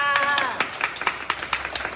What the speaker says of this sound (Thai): ปรบมือเลยค่ะ